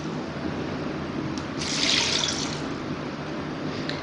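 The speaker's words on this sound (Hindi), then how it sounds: "2 ग्लास मैं इसमें पानी के डाल दूंगी।" Steady water poured into a cooking pot, swells louder midway then settles back, close by with no talking.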